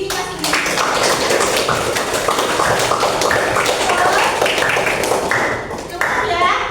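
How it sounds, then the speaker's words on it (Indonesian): A school maths class clapping hands together, a dense, loud patter of many small hands close by that fades out briefly near the end and resumes, with children's voices mixed in. "Beri tepuk tangan untuk diri kita sendiri."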